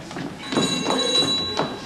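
A cell phone rings onstage during a junior high school play, a steady electronic ringtone heard clearly over faint room noise for about two seconds.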